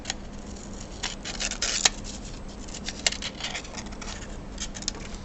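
Scissors trim around folded paper for an elementary art creature collage, giving a few soft snips and crisp rustles at an uneven pace, quiet and close over a faint background hum.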